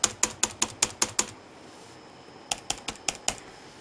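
Brisk keystrokes on an MSI GX660R gaming laptop keyboard, a run of about seven quick clicks, a pause, then another burst of six, close and crisp.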